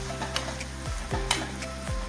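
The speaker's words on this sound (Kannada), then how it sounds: "ಈಗ ಅಕ್ಕಿನ ಹಾಕ್ಕೊಂಡಾದ್ಮೇಲೆ ಇದನ್ನು ಚೆನ್ನಾಗಿ ಫ್ರೈ ಮಾಡಿ" Rice fried in a pan for tomato bath: a steady close sizzle with repeated scraping stirs sweeping through every half second or so, and no talking.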